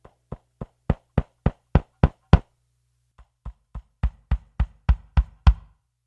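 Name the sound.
kick drum, Ludwig 1975 Maple Classic, recorded with AKG D112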